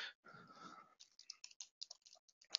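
Typing on a computer keyboard during a FileMaker 14 software demonstration, with a quick run of faint, sparse key clicks heard close by after a brief murmur.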